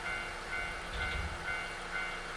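Train in the Nostalgic Train video game starting to move, a steady low rumble with a faint rising mechanical swell and a soft tonal hum carrying through the carriage, no talking.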